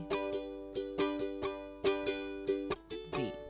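Ukulele strummed through chords, crisp and close, in a steady repeating strum pattern of sharp bright hits with ringing strings between them, ending on a slightly different chord; no talking.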